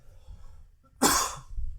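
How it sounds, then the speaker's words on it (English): A single sharp cough bursts out close by after a quiet moment, followed by faint breathing and low room noise. "Hold on, I got a cough."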